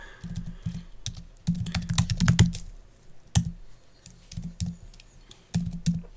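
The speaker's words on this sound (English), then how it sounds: "I knew I was going to type that wrong if it didn't correct it" Bursts of rapid keystrokes on a computer keyboard, clicking in quick clusters separated by short pauses, close and clear with no voices.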